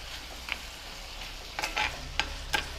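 Mutton liver with freshly cut coriander being stirred and fried in a slightly small pan, quiet sizzling with a few scraping stir strokes near the end.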